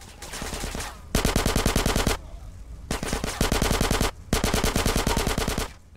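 Rapid automatic gunfire from GTA San Andreas, several loud sustained bursts separated by short pauses, dense rattling volleys filling most of the stretch with no talking.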